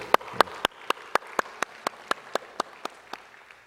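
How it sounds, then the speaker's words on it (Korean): Clapping during a Korean church Sunday worship service: about fourteen sharp, evenly spaced claps in a steady rhythm, fairly distinct and somewhat distant, with no talking over them. "뜨거운 격려의 박수로."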